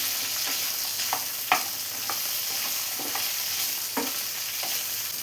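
Okra and shallots frying in a pan, a constant close sizzle punctuated by a series of short spatula scrapes and stirs roughly every half second, with no talk.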